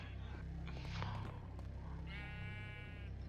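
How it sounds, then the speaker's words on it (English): A sheep in a video game bleats once in a drawn-out, wavering call, preceded by game noise and low voices, all over a steady background hum. "I see a sheep"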